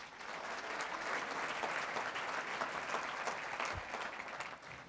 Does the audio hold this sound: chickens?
no